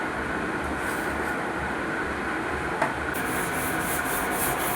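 Old brush scrubbing a dusty study table, a continuous rough rubbing friction sound at close range, steady and fairly loud throughout, with one sharper knock partway through.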